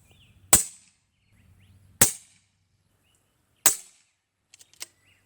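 Three sharp, loud shots from an Airmaks Arms KATRAN Long air rifle, evenly spaced about a second and a half apart, each a crisp crack with a short tail, followed by a few faint mechanical clicks.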